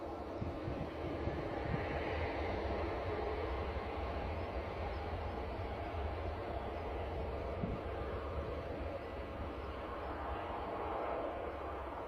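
Embraer jet departing Bristol Airport, a steady broadband engine roar held at constant loudness throughout, heard from a distance outdoors with no talk.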